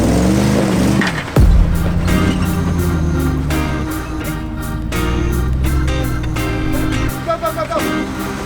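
A car drives through close by, its engine a loud, steady rumble lasting several seconds, with a sharp thump near the start and faint voices mixed in.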